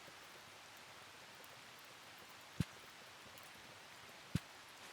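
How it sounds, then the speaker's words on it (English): Soft, steady rain hiss in the Moonstone Island farming game, faint and continuous, with two sharp clicks standing out partway through. "Yeah, because it's raining."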